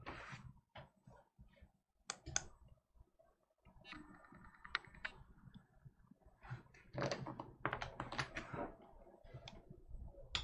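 Quiet, close-up keyboard typing with bursts of clicking keystrokes, pausing briefly, then picking up again in faster, denser runs.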